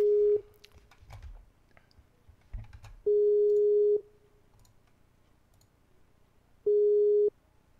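Phone ringback tone while calling a viewer, three loud steady beeps in a slow rhythm with quiet gaps between them, faint clicks and no talking.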